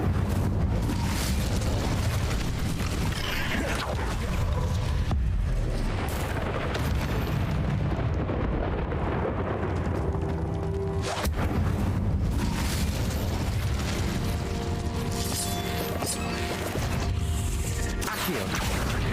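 Spell blasts from the Bombarda and Incendio charms in Hogwarts Legacy, a dense, continuous wash of booming explosions and crackling fire inside a cave, loud throughout with repeated crashing impacts over the full stretch.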